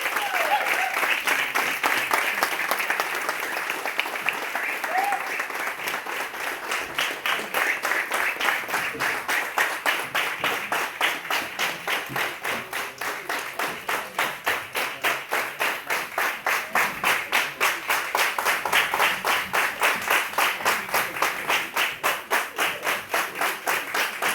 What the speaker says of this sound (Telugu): గట్టిగా చప్పట్లతో ఆహ్వానం పలుకుదాం.